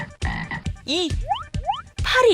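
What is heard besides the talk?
frog croaking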